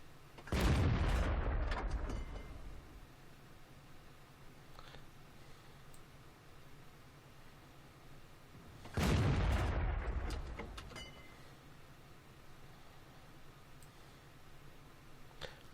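Two spaced, loud booming shots from a KV-2 self-propelled gun in World of Tanks, each a deep blast with a long rumbling decay, separated by quiet ticking and faint background clicks.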